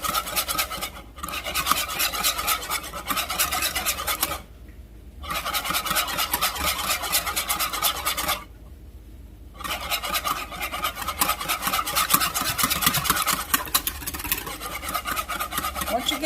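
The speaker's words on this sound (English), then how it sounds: "make sure you get the beating it first and just add little dribbles at a time. And whisk it really good" Eggs whisked hard for egg custard while hot liquid is dribbled in: fast, steady scraping strokes close by, running continuously apart from two short pauses.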